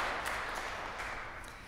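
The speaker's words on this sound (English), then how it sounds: "we're just going to give you a quick round of applause early on" Audience applause at a noon organ concert fills the space with a dense, steady wash of clapping from many hands, moderately loud and slowly easing off.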